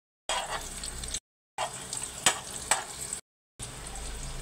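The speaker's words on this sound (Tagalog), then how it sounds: "Magigisa na tayo ng ating tokwa." Tofu sizzles as it is sautéed in a pan in three separate bursts of steady frying hiss, broken by short silent gaps, with a couple of sharp utensil clicks in the middle.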